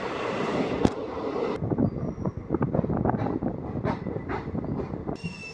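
A DEMU passenger train on the Kacheguda–Nizamabad route rumbles along the rails, with rhythmic wheel clatter and a brief sharp knock near the start, heard from inside the carriage.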